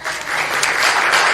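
Audience at an annual congregational meeting breaking into loud, steady applause, a dense wash of many hands clapping close by with no speech over it.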